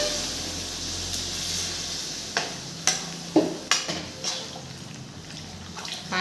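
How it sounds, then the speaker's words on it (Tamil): Sharp clinks and scraping stir a sizzling pan of frying masala for egg gravy as water hisses in, with a steady low hum underneath. "பாருங்கள், தண்ணி ஊற்றிட்டேன்."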